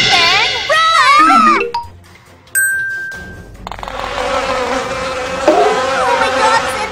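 A cartoon mosquito gives a high whining buzz that rises and falls during a chase, mixed with squeaky animated voices and a brief ding.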